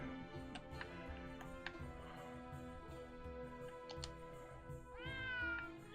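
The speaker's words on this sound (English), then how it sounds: "Oh, the kitty!" A cat in the video game Triangle Strategy meows, its rising call near the end over soft ticking and game music.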